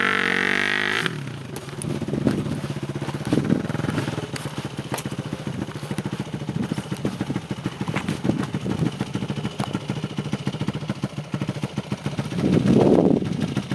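A motorcycle engine starts after a brief loud burst, then runs close by in uneven, clattering revs with several throttle surges as it is ridden up three steps, the loudest push near the end.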